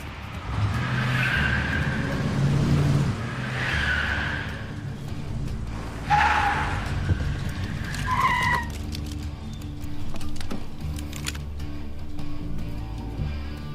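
A car pulls away with tires skidding and squealing, engine revving loudly nearby in short bursts, then settling into a rougher idle with scattered clicks and knocks, no speech.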